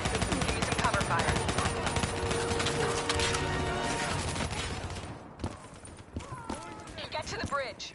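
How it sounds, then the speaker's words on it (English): Rapid, loud automatic gunfire as cover fire in a Black Ops 3 campaign battle, dense at first then thinning into scattered shots, with voices speaking over it. "Give me some cover fire."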